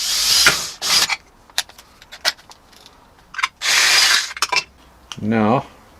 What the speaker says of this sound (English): we're going to drill a hole in there so that we can stick that in there